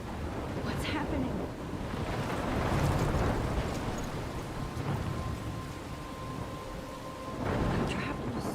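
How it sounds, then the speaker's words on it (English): A thunderstorm in a video game, steady rain hissing with low rumbling thunder swelling and fading, and a voice talking softly over it at times. "I'm trapped in a storm?"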